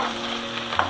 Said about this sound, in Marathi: आणि त्यालाही थोडी मिरची थोडीशी भाजली।